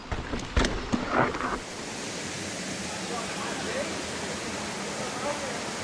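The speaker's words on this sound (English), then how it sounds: "It's a waterfall." A waterfall beside a mountain bike trail at Round Top, New York makes a steady broadband rush, after some brief knocks and a short voice at the start.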